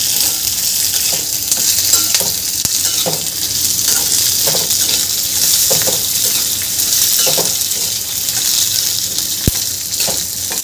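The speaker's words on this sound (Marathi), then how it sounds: "यामध्ये कांदा घालून घ्यायचा आहे। आता हे सुद्धा एकत्र छान मिक्स करून घ्यायचं, छान भाजून घ्यायचं आहे थोड्या वेळ।" Garlic, chillies and onion sizzle in a pan, a dense steady hiss close by, broken by repeated scraping stirs and a single sharp clink.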